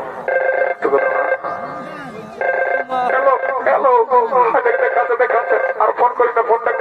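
A phone rings repeatedly during a call attempt in a Purulia comedy sketch. Short, steady tonal bursts are followed by busy, chattering voices and background sound.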